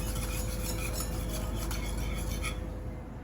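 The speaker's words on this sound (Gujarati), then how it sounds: "હવે આને એક થીક બેટર તૈયાર થાય ત્યાં સુધી આપણે આ રીતે હલાવી જઈશું." A spoon stirs a thick beetroot and besan batter in a pan, giving a steady close scraping and squelching that runs without pause and fades slightly at the end, with no talking.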